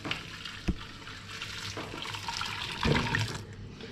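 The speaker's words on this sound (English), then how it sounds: "then put the boiling water" Boiling water pouring and splashing into a pot of cheese sauce for macaroni and cheese, a steady rushing stream with a couple of clunks, close by and fairly loud.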